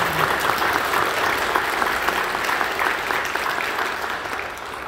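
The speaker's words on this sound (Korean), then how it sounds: "박수해 주시기 바랍니다." A church congregation at a Korean service for installing deaconesses and honorary deaconesses applauds loudly and steadily, dense clapping sustained for about five seconds before easing slightly at the end.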